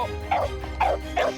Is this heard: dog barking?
yes